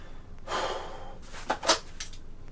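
A shooter exhales before a dry fire draw, a long airy breath out close to the microphone, followed by a couple of shorter, sharper breaths in a quiet room.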